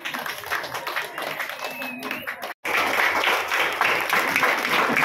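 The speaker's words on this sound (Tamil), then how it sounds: "எல்லாம் ஒரு நல்ல கைதட்டு கொடுங்க." At a Women's Day event honoring women police officers in Tamil Nadu, an audience claps steadily throughout, the applause briefly cutting out midway before resuming strongly, with some voices mixed in.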